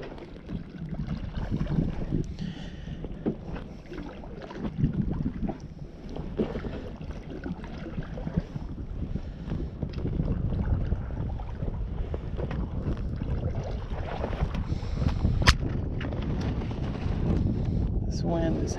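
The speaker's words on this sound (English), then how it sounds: "This wind is havoc though" Strong wind buffets the microphone on Issaqueena Lake in South Carolina during a canoe bass-fishing trip, a steady low roar with gusts that swell and ease throughout, talk running faintly beneath it.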